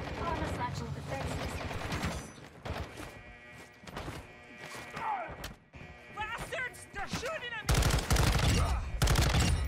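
Gunfire in Modern Warfare 2 during a multiplayer match, with bursts of rapid shots and sharp impacts mixed with game effects, while a player talks over much of the action.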